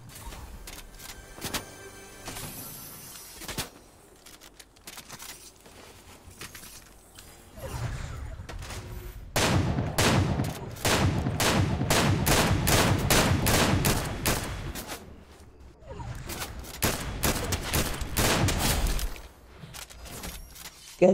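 Rapid bursts of automatic gunfire in the Fortnite Chapter 3 battle royale game, with scattered shots early and then a long, dense run of repeated rattling volleys, fairly loud and continuous with no talking.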